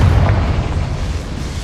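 A Confringo fire-blast spell explodes in Hogwarts Legacy, a loud low boom at the start that rolls into a rumbling decay.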